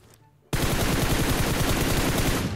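M416 assault rifle in the mobile shooter PUBG Mobile firing a long, loud, rapid full-auto burst of evenly spaced shots, starting abruptly after a brief quiet moment and continuing for about two seconds.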